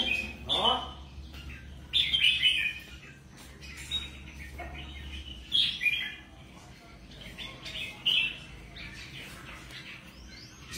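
Caged songbirds chirp in short bright bursts roughly every two seconds, moderately close, over a steady low hum, with faint background noise between calls.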